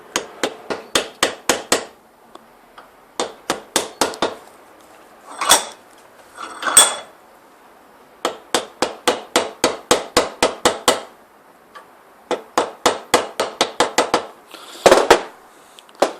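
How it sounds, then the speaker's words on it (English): A soft mallet taps a clamp ring down onto a piston seal from a P38 Range Rover air compressor, in crisp, close groups of quick even knocks separated by short pauses and a few duller scraping sounds. "with a soft mallet you gently tap down"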